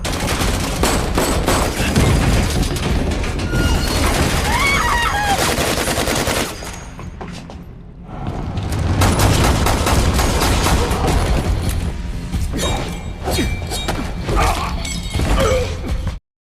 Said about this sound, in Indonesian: Nina telah diketahui oleh anak buah Gomez hingga terjadilah baku tembak di sana